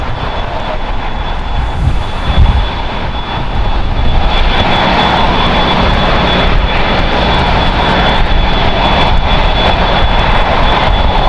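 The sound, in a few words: Korean Air A380 taxiing, jet engines at LAX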